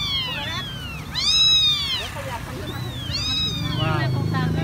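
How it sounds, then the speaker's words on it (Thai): Several drawn-out meows from a bob-tailed cat stuck under a car, close and fairly loud, rising and falling in pitch, over a steady low engine-like hum with people talking faintly. "เออแมวหางกุดด้วย"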